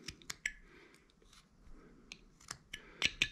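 Knife making a stop cut in carved wood near the lower lip and chin, heard as a few sharp, close scraping snicks, irregular and quiet, without speech.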